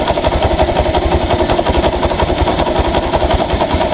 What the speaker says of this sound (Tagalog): tahimik pa eh makina